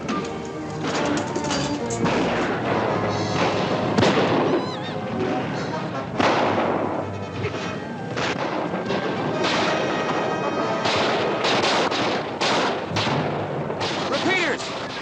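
Repeating rifles fire in a 1955 western ambush, a dense run of sharp cracks and booming shots layered with crashes and shouting voices, loud and continuous throughout.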